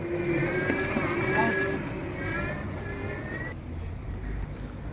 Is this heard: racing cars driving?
yes